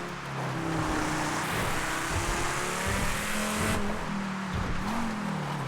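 A car engine in GTA roleplay drones steadily as it drives, its pitch climbing through gear changes with a brief shift midway, loud and close with no voices.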